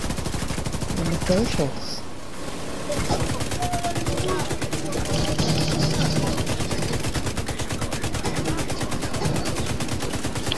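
Rapid sustained machine gun fire in The Division 2 video game, dense rattling bursts running nearly throughout with a brief pause, with someone talking over it.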